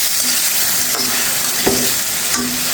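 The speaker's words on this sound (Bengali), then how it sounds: "টমেটোটা দিয়েও কষিয়ে নেব।" Tomatoes sauté in hot oil for a fish curry, giving a loud, close, continuous sizzle with a few stirring knocks and scrapes against the pan.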